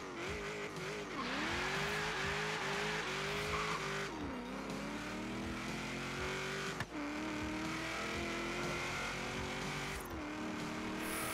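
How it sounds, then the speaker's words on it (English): A 1995 Ford Mustang Cobra R with a 670 hp drag build roars in Forza Horizon 3, its engine note loud and close, climbing through gears with brief dips at each shift over about eleven seconds, with no voices. "listen to that roar in the engine"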